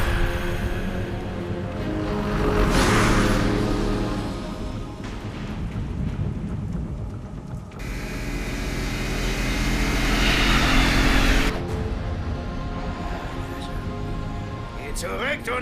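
A car drives in Batman: Arkham Asylum, its deep engine drone swelling and fading in long waves, with talking over it.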